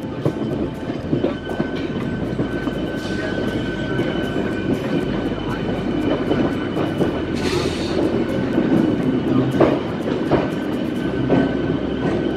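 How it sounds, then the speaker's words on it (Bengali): A Bandel local train pulls into platform 1 at Howrah station, a loud steady rumble of wheels and carriages with clickety-clack rail beats and occasional squeals, without any talking. "ট্রেন এসে আমাদের ছেড়ে দিয়ে গেল 1 নম্বর প্ল্যাটফর্মে। এই ট্রেনটি ছিল ব্যান্ডেল লোকাল।"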